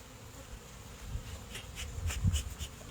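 Honeybees buzz close around an opened hive during a search for the queen, a soft, steady droning hum with individual insects flying past and swelling louder toward the end.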